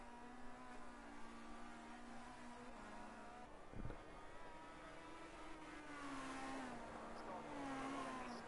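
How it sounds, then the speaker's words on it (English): Formula C race cars lap the circuit at Cadwell Park, their engines a steady, rising drone from mid-distance, with a brief louder pass partway through, heard faintly throughout. "And out come the cars as we speak on our track here."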